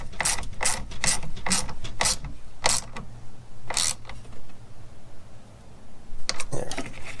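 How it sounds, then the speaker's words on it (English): Ratchet tightening a bolt on a Dodge Dakota or Durango transmission during a swap, a quick run of sharp clicking strokes, a pause, then a few more clicks, close and without talk. "it will draw itself in as you tighten this bolt up"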